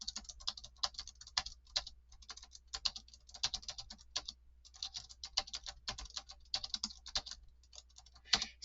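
Keys clacking on an AlphaSmart Neo2 portable word-processor keyboard, a steady run of quick, close, moderately soft key presses with brief pauses, in a quiet room with no talking.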